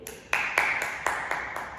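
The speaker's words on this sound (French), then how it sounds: "Et on s'applaudit" Young children aged 3 to 5 clap for themselves in a ninja-themed karate class: about five sharp, evenly spaced group claps in unison, fairly quiet in a room.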